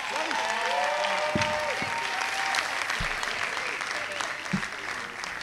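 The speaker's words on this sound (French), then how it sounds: "Voici sous vos applaudissements le numéro 5, Fiston Bouy de Kinshasa." A crowd applauds and cheers a finalist at a televised singing contest in Kinshasa: dense, steady clapping throughout, with whistles and scattered shouts mixed in, and a voice briefly audible beneath.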